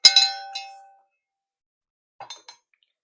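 A notification bell ding, a bright metallic clang that rings out and fades within a second, followed by a short faint tinkling flourish, loud and alone.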